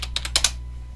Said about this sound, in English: I'm going to type in Windows 10 download.